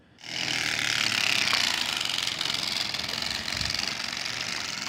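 A loud, steady buzzing rattle of a baseball card clothespinned to flap in the spinning spokes of an electric motorcycle, a continuous motorized drone that holds steady throughout.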